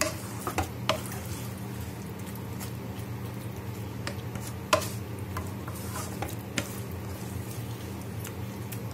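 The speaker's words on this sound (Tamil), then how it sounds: "தண்ணி சேர்த்துட்டு நல்லா மிக்ஸ் பண்ணி விட்டுருவோம்." Quiet scraping and soft taps of a utensil stirring Kerala-style chicken roast with added water in a pan over a low steady hum, with a few sharper clinks spaced irregularly.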